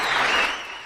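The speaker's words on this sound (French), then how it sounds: "Je vais vous demander de faire un tonnerre d'applaudissements pour Zota" A studio audience breaks into a short burst of applause, loud and close, then fades a little toward the end.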